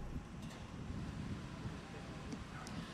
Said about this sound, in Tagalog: nararanasan natin yung pabugso-bugsong ulan at malakas na hangin